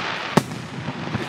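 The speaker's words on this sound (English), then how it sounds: "That's a firework." A single firework bangs sharply at an outdoor bonfire night celebration in Hastings, one brief loud crack over a background of crowd noise.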